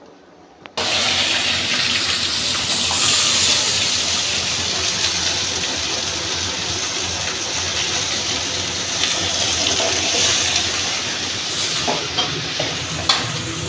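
Water drains off boiled seege greens cooked with coconut and salt, a loud, steady rushing pour that starts abruptly and runs on continuously with small splashes and clatters.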